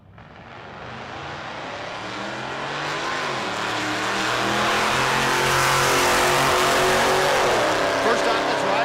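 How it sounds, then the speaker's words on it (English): The Nightmare Mustang race car revs and accelerates at a drag race, a loud, rising engine roar that builds steadily and holds near full volume with crowd and announcer noise around it. "You guys hear that? That's the Nightmare Mustang."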